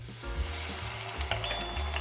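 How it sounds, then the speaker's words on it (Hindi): Boiled ground spinach with ginger-garlic paste frying in hot oil for Lahori harissa, a close, steady sizzle with stirring scrapes and no talk. "पालक और लहसुन अदरक को अच्छी तरह मैं फ्राई करूंगी"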